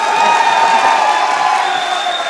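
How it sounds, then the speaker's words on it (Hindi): A studio audience at a Hindi comedy show about cricket claps and cheers loudly, with scattered whoops rising over a dense, steady wash of applause. "अब बजा लो तालियां,"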